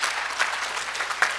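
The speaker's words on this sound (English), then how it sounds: "Please give a round of applause to her team." A round of applause from the audience at an AI and cybersecurity town hall held at Kennedy High School, a steady crackle of many hands with a few sharper claps standing out, without any talk.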